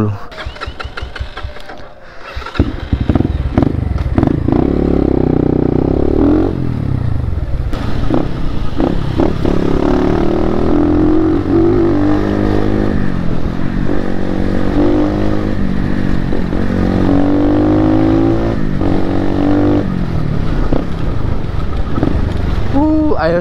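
A KTM 690 motorcycle engine drones steadily and loudly throughout, with wind rush and someone talking continuously over the engine noise.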